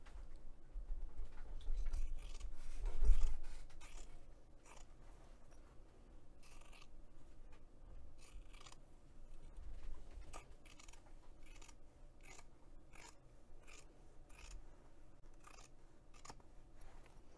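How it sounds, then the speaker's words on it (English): Scissors snip along a fabric seam of a crossbody bag, trimming it down with a series of quiet, crisp cuts spaced irregularly, close up and faint with no talking. "we're gonna trim that half inch seam down to about a quarter of an inch"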